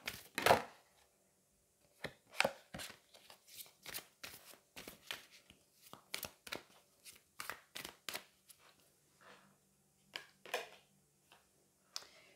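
Angel love oracle cards being shuffled and drawn, with crisp papery riffles and snaps coming in irregular bursts, close and clear against near silence.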